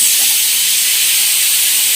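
A pressure cooker vents steam in a loud, continuous, close hiss that holds steady throughout, with no talk.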